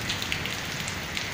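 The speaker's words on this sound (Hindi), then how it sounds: "ये सब जगह वही बारिश हमें लग रहा है ना" Steady rain falls continuously, a dense hiss with scattered droplet taps throughout and no voices.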